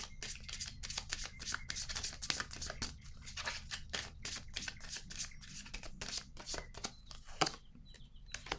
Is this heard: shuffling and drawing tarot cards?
yes